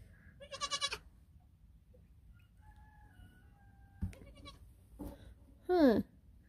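A week-old male goat kid bleats in short, loud bursts near the start, then again at the end with a rising cry, quiet room noise between.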